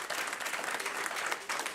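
Dense, fairly quiet applause from an audience at a conversation event, a brief continuous patter of many hands lasting under two seconds.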